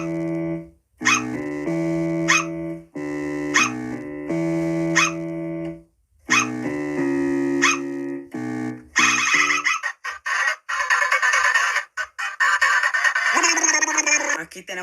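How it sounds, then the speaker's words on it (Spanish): Cartoonish dog barks from a Sprunki music game, layered as repeated short yelps over a steady synth bass loop in the first part, then giving way to a denser, noisier musical section. "Aquí tenemos a Grey y a Wenda con el bajo y los ladridos de perro."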